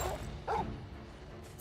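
A dog in the Final Fantasy XVI demo gives a single short bark about a third of the way through, set against the game's steady background ambience.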